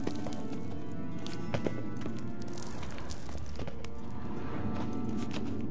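Hooves of a horse galloping in the video game The Witcher 3 beat in a quick, continuous clip-clop with a faint background score.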